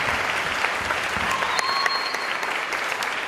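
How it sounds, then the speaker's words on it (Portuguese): An audience at a church youth conference applauds a worship music group, with dense, loud, sustained clapping that stays even from start to finish. "Se você puder aplaudir cada um deles."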